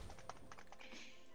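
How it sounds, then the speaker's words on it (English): Quick, light keystrokes on a computer keyboard tap in a short irregular burst, quiet and close, during a nighttime digital sculpting session. "Just typing."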